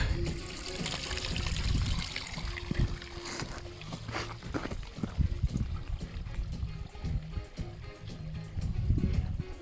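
Water trickling at the source of the Morava river on a mountain hike in the Czech Republic, a soft continuous burble with scattered splashes and light knocks nearby.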